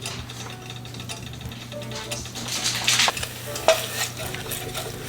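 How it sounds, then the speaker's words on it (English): Tomato paste cooking with vegetables in a pan for a beef rigatoni, a low steady sizzle with occasional scraping stirs and a couple of sharper clinks, close and moderately quiet. "So now we're going to add about a tablespoon or 2 of tomato paste."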